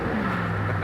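The tuned port V8 of a 1988 Camaro revs briefly and loudly up close, a steady throaty engine roar with no voices.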